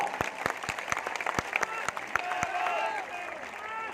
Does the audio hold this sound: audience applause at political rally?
yes